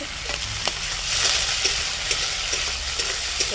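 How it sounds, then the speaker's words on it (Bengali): Large prawns fry in hot oil in a pan, a close, bright continuous sizzle broken by sharp little pops and spatters every half second or so. "চিংড়ি মাছটা ভালো করে ভেজে নিতে হবে"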